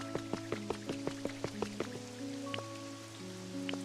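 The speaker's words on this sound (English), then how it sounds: "I can make it rain a little if you like." Light rain falling in the video game Pokemon Pokopia, heard as a run of small, evenly spaced drips over sustained background music that thin out toward the end.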